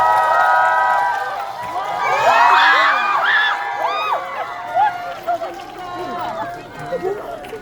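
Cinema audience at a stage greeting for a film premiere cheering, shouting and clapping as the director and actors walk in, a loud excited crowd roar with scattered screams that gradually settles.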